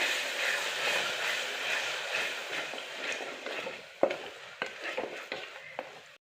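Soya bean curry masala paste being stirred and sautéed in a pan, a soft sizzle with scraping, followed by a series of sharp spoon knocks against the pan toward the end.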